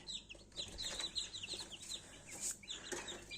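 Spanish-breed hens cluck and chatter close by in an incubator-farm coop, with quick, overlapping calls and short squawks forming a lively, continuous flock murmur.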